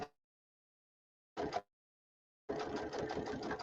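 Sewing machine stitching a quilt of squares in short bursts: a brief run, a pause, another short burst, then a longer steady rattle of stitching. Close and fairly loud, with no talking.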